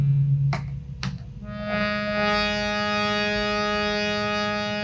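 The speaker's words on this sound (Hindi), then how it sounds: "ये प की आवाज है" Two sharp clicks, then a sustained, rich harmonic drone tone of the note Pa swells in and holds steady and loud to the end.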